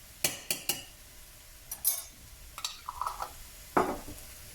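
A spoon stirs minced garlic and Dijon mustard into a cauliflower chorizo soup in a pot, making a few close, scattered clinks and wet scrapes in a short burst, then one last louder knock.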